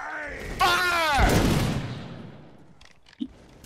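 Musket volley fired by a company of soldiers in a Napoleonic war video game: one loud crackling burst of many shots together that trails off into smoke-filled rumble, with a shouted voice just before and a faint later pop.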